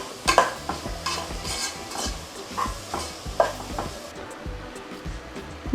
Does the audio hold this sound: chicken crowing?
no